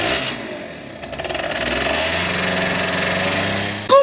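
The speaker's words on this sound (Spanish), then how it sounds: "Es mi pequeño pero veloz amigo, la motocicleta." Small, fast motorcycle engine buzzing steadily at high revs, rising in pitch and holding loud and close for about four seconds before a brief squeak at the end.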